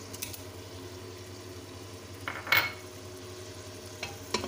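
Quiet scraping and a few soft clinks as a spoon stirs garlic-ginger paste in a metal pressure cooker while making daal mash, with a low steady hum underneath.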